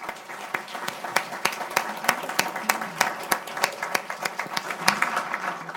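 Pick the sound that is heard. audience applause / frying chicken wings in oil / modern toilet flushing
audience applause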